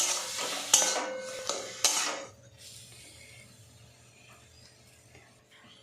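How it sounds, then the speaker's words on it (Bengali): Banana flower mash is stirred with mustard oil in a pan: close scraping and a few sharp knocks of the spoon for about two seconds, then near silence. "ভালো করে এটা মিশিয়ে নেব।"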